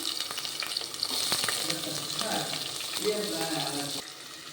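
Onions sizzle and crackle steadily in hot oil, with a soft clink of stirring now and then; the frying quiets slightly near the end.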